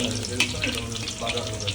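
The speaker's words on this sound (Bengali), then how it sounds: "এখন রসুন কুচি আর ভাজা শুকনো মরিচ দিয়ে আর একটু ভেজে নিতে হবে, ফ্রাই করে নিতে হবে।" Chopped garlic and dried chillies frying in a pan for beef haleem, a continuous close sizzle with a few scraping stirs.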